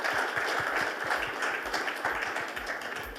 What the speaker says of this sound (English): But a round of applause, I think.